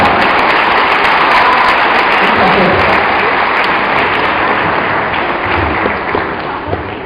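Loud, continuous applause from a conference audience, dense sustained clapping filling the room with a talker's voice mixed in beneath it.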